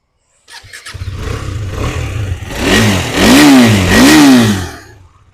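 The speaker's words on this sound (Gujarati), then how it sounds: "એન્જિનનો અવાજ તમને સંભળાવી દઈશ મિત્રો." A KTM Duke 250 motorcycle starts up close by, its engine catching after brief cranking, idling roughly, then revving hard twice in rising and falling sweeps before settling back to idle.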